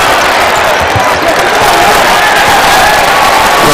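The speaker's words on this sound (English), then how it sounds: "The senior gets a nice round of applause for his effort." A basketball arena crowd applauds a senior player at a game, a steady, loud wash of clapping and crowd noise that fills the whole stretch without a break.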